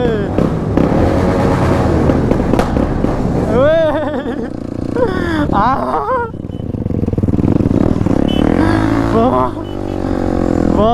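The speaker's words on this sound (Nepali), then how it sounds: "अब मिसफायर सुन्नलाई रेडी" A motorcycle on a ride through an underground passage revs hard and fires off a rapid string of loud popping misfire bangs, with rising and falling engine whines, while voices talk over it.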